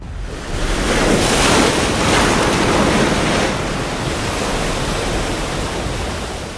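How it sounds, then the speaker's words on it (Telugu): Sea waves surging onto a wide sandy shore, a loud, dense roar of surf that swells over the first few seconds and then holds steady with wind-like hiss, no voices. "సముద్రం ఎగసి పడుతోంది."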